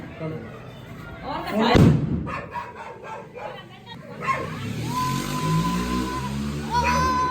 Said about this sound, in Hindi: कौन सा पटाखे फोड़ रहा है?